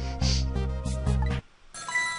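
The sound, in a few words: telephone ringing in the Ghost Trick video game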